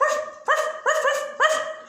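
A dog barks four times in a steady rhythm, each bark loud and close with a short whine-like tail, with no talking over it.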